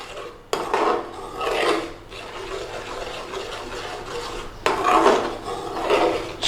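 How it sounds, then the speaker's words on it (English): Red masala sauce being stirred through chicken tikka masala in a cooking pan, the spoon scraping and rasping against the pan in a few broad sweeping strokes with short pauses between. "Give it a stir around."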